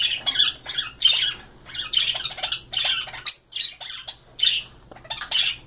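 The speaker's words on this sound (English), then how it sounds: "Bird fight." Pet birds squawk and chirp in a rapid, repeated series of loud, harsh calls while fighting indoors, bursts coming close together with brief gaps and no talk.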